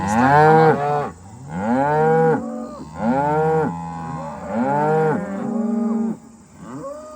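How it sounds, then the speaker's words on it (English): Black Angus cattle moo loudly and close by in a string of long, drawn-out calls, one after another with short gaps between them, and a quiet word is spoken once. "Our neighbors love to hear the cows moo."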